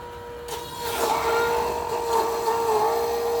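PURE juicer motor pressing big carrots, a strained, steady electric hum with a firm tonal whine that holds throughout, rising in load after a brief quiet start.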